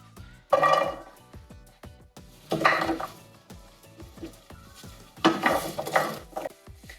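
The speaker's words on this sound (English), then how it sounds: "now I'm going to add in the carrots and let them fry for a little bit" Carrots stirred in a frying pan, with close utensil scraping and clinks against the pan in three louder bursts over a soft background sizzle.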